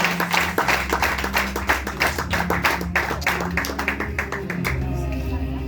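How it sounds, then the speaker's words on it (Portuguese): Church congregation clapping loudly for Jesus during a worship service, a dense burst of many hands in quick uneven claps over a sustained music drone, with voices mixed in underneath. "Aplauda bem forte para Jesus."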